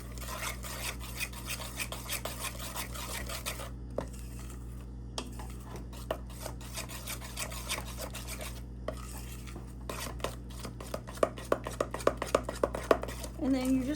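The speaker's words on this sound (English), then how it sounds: "And then you just want to continue mixing it until there's literally 0 lumps in here" Flour being mixed into cake batter in a bowl, a quiet repeated scraping and tapping of a utensil against the bowl that turns into faster, sharper knocks near the end.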